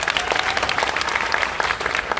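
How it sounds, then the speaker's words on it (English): An audience at a national sports awards ceremony bursts into loud, sustained applause, a dense wash of many hands clapping throughout. "Can we give him a round of applause one more time?"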